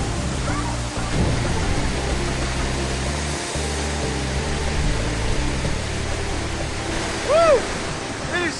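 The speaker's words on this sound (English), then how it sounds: "It is so forceful underneath that waterfall" A forceful waterfall at the headwaters of the Siem Reap River roars as a loud, steady rush of falling water close by. People's voices are heard briefly over it.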